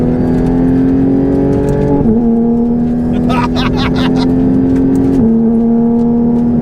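A twin-turbo Porsche GT3 RS engine holds a steady high drone with brief rev shifts and turbo whooshes, and a person speaks briefly over it.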